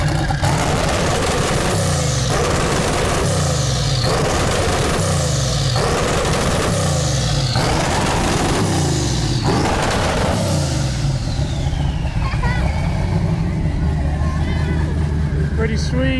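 An LS-swapped twin turbo car at LS Fest Texas 2022 revs loudly and close by, with about six rhythmic surging revs in quick succession before settling into a rumbling idle.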